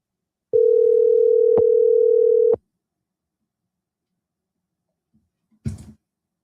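A single long ringback tone sounds while a phone call to a rental company connects. It holds steady for about two seconds, then falls silent, followed by a short clunk.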